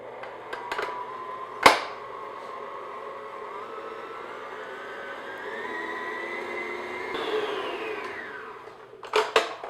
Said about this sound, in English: I'm just going to beat this on medium-high speed just until everything gets mixed together